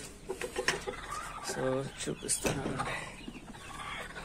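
Large hens penned in a modified cage give short, scattered clucks and squawks close by, mixed in with a person talking.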